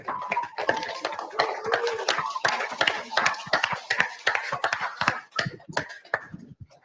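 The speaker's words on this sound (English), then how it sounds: "We'd like to give you a round of applause." Scattered applause from a small group at a driver orientation meeting, individual hand claps distinct and uneven, close and moderately loud before trailing off.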